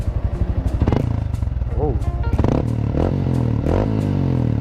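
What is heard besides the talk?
Yamaha Sniper 155 motorcycle revving with Kalkal exhaust pipe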